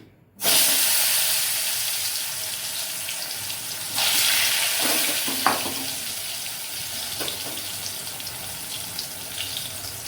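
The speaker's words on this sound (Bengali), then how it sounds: "কড়াইতে সর্ষের তেল কিছুটা দিয়ে ভালো করে গরম করে নিয়ে আমি পটলগুলো ভেজে নিচ্ছি।" Pointed gourd (potol) sizzles in hot mustard oil in a pan, a loud dense frying hiss that starts abruptly, swells again midway and carries scattered crackles and pops.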